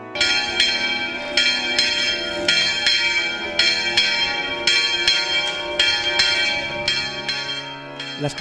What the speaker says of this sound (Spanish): Las campanas de su torre románica nos dan entrada